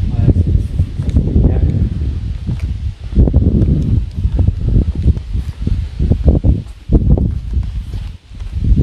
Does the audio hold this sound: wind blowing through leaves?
yes